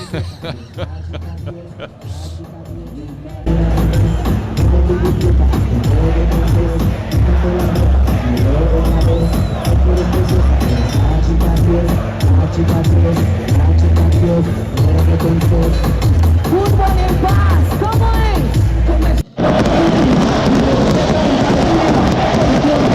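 Stadium crowd at a Colombian soccer match before kickoff, loud dense roar of chanting and cheers over booming DJ music, sustained and close, swelling after a quieter opening few seconds.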